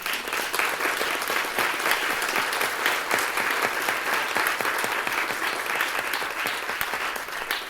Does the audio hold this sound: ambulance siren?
no